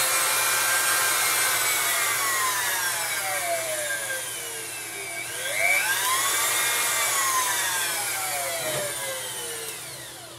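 A STORM WT-0516 rotary engraver running at top speed gives a steady, close high-pitched whine with gliding tonal sweeps and a brief surge midway, alone with no talk.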